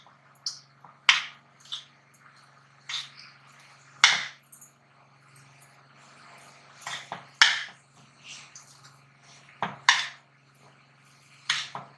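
Chicken roll filling is stirred with salt in a bowl, giving a series of irregular scraping clinks of a spoon against the dish and soft wet squishes, with a low steady hum in the background.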